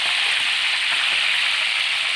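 Free-range chicken pieces fry in hot oil, giving a steady, dense sizzle that holds at an even level throughout, close and loud, with no talking.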